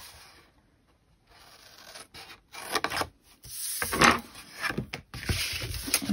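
A folded paper box is cut along its fold line, producing close, uneven scraping and cutting strokes in short bursts that grow busier after a quiet start, with no speech.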